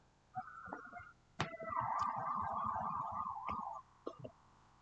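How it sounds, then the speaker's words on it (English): A siren wails in the distance, a wavering tone that rises and holds for a few seconds, faint but clear over a quiet background. "I don't know if the siren is loud"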